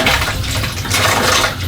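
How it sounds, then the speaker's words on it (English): Loud, continuous rush of water flowing from an Av Mixx dilution control dispenser, its flow swelling and easing slightly, with no talking. "You can notice as I move my finger back and forth the change in water flow."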